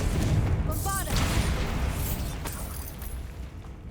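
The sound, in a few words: Bombarda blasting spell explosion from Hogwarts Legacy video game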